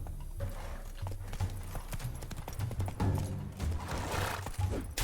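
Roach, the horse in The Witcher 3, gallops in a fast, steady drumming of hoofbeats, fairly close and loud, continuing for several seconds with game background sound.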